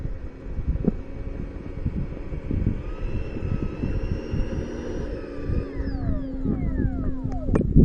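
An FMS Futura 64mm EDF model jet flies on a windy afternoon, a steady ducted-fan whine and hum carried over wind noise, with pitch shifts as it passes overhead.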